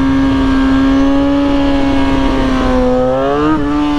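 A motorcycle engine holds a steady, fairly loud low idle during wheelie practice, with a slight dip and brief blip in pitch near the end, no voices over it.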